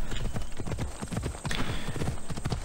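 Horse hooves clip-clop in a quick, steady rhythm during Assassin's Creed Odyssey gameplay, near and prominent with no talking over them.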